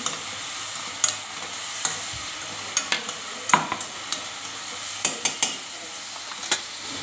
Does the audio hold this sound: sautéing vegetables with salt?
yes